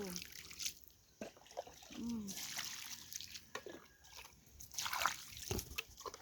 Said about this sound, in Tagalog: Bisbisan ta. Para malipay ang mga tanom.